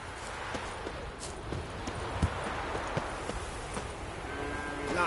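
A horse galloping in The Witcher 3, steady rapid hoofbeats clopping over a busy game soundscape with a voice speaking briefly.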